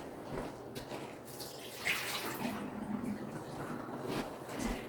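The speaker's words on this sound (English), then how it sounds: "I'm going to take it to the sink, empty the water out of it." Hot water empties from a canning jar into a kitchen sink, a soft, low splashing and gurgling pour that runs quietly for several seconds.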